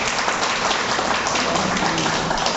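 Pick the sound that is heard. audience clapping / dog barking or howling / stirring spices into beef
audience clapping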